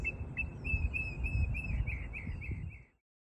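Bright bird chirps repeat in a steady run over a low rumble of wind or traffic, the calls moderately close and continuing for about three seconds, in a botanic garden of California native plants in Claremont, California.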